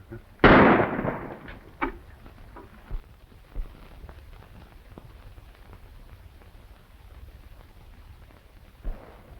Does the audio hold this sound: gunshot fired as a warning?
yes